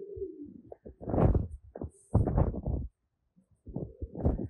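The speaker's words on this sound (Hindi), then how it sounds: "बहुत ही आउट क्लास बहुत ही अच्छा कबूतर दिखाया जा रहा है इस वक्त" Pigeons coo in deep, throaty rolling phrases, close and fairly quiet, several calls with short pauses between them.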